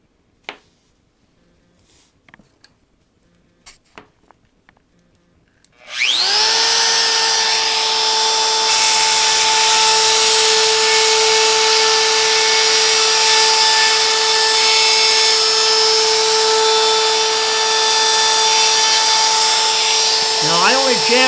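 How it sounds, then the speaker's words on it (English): A router chamfers the edge of a wooden board for a desk sign. A few quiet handling clicks come first, then the motor spins up into a loud, steady, high whine that continues without a break to the end. "reset the router a little deeper and chamfer it all in one"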